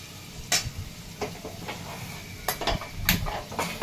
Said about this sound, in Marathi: तर आता हे तेलामध्ये मी ना आधी लसूण टाकून घेत आहे कट केलेला